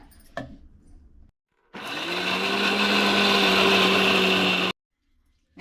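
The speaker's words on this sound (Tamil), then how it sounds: "நீங்கள் மிக்சியில் போட்டு தான் அரைக்கணும்" A mixer grinder blends white coconut, a loud steady whirring drone that starts abruptly, holds for about three seconds, then cuts off, with a couple of brief knocks before it.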